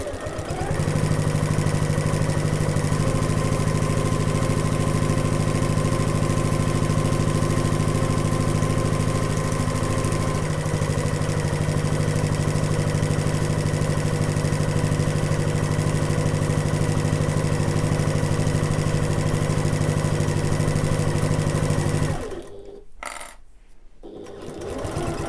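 A sewing machine stitches a sling bag in a long, steady, close mechanical hum, then stops near the end as the fabric is pivoted and a few short bursts of stitching follow.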